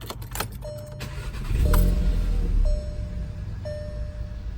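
VW MK7 GTI fitted with an APR downpipe starting up: a few clicks and a brief whir, then the engine catches with a low rumbling burst that settles into a steady idle, accompanied by faint repeated electronic chimes.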